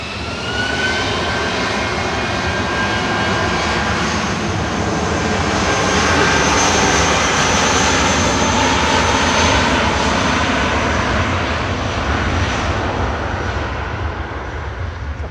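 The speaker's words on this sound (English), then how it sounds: "It's a 23-year-old A319 GEUOA with flight 1383 back down to Heathrow." A 23-year-old Airbus A319 jet, registration G-EUOA, roars past at Manchester Airport, its loud, continuous engine noise swelling in the middle and easing off toward the end, with no talk.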